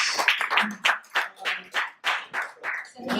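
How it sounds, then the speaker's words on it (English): Conference audience clapping for a speaker, a series of distinct, evenly spaced bursts in a steady rhythm, fairly close and loud. "A round of applause for you"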